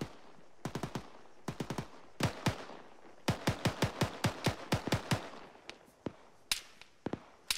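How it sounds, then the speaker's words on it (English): Covering rifle fire in the military shooter Arma 3 during a tactical training exercise: sharp, crisp shots in rapid bursts and quick strings, some trailing echo, heard alone at moderate distance. "I'm gonna try to do some covering fire now"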